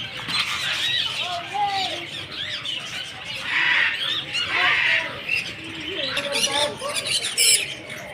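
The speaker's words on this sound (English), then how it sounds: "Small parrots." Small parrots squawking and screeching in a park bird house, many overlapping shrill calls and chirps at close range, with people talking throughout.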